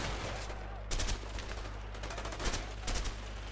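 Gunfire in the video game A Way Out: a steady rumbling battle bed with several sharp shot bursts near 1, 2.5 and 3 seconds, loud and close, no talking.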